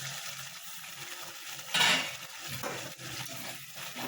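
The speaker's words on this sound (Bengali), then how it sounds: "5 মিনিট হয়ে গেছে, এবার ঢাকাটা সরাবো।" A lid is lifted off a cooking pot of lote fish curry, giving one brief metallic clatter near the middle, followed by a few faint clinks against a low background hiss.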